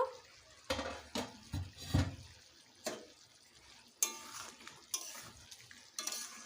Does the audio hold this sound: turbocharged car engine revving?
no